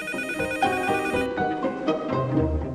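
A telephone rings in a dubbed Turkish drama scene, a clear repeating electronic ring close by with no one talking over it.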